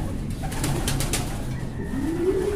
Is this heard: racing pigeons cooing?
yes